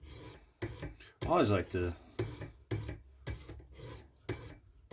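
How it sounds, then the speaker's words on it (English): A Spyderco Pacific Salt knife blade scraped in quick deburring strokes on a sharpening stone, a rhythmic series of close rasping rubs, with a person speaking briefly over them. "I'm going to do a few deburring strokes and then strop a little bit"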